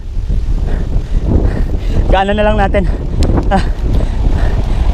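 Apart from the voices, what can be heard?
strong wind blowing into microphone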